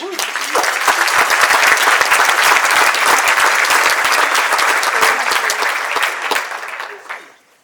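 A crowd claps loudly and steadily for several seconds before the applause tapers off at the end.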